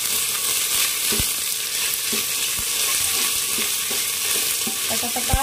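Ginger garlic paste sizzles and spatters in hot ghee in a pan, a loud continuous frying hiss broken by the scrape and clack of a spoon stirring every second or so.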